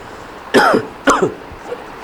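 A man makes two sharp, rasping throat-clearing coughs in quick succession, imitating a cough, followed by a faint third sound, close and loud in a quiet room.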